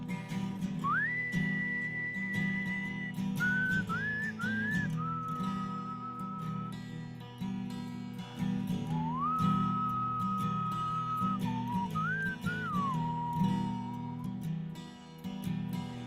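A performer whistles a slow, sustained melody on stage at a mountain opry, long held clear notes with slides between them over a low steady instrumental backing, no talking.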